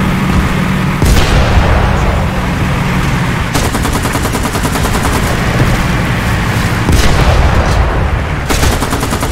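Artillery and machine-gun fire in the tank combat game War Thunder, a dense, continuous loud barrage of rapid bursts and booms throughout, with no talk.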